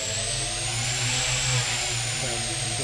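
Drone motors spinning up during a hovering practice flight, a steady high-pitched whine with a buzzing drone underneath that rises slightly as the throttle goes up, close and continuous.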